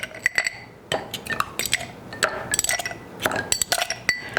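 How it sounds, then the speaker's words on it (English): Ice cubes clinking and knocking against glass while a Bloody Mary of fresh tomatoes, herbs, spices and lemon is prepared, a quick irregular series of bright close clinks with brief pauses between them. "Add some ice."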